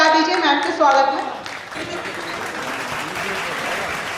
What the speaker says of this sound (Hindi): एक बार जोरदार तालियां बजा दीजिए मैम के स्वागत में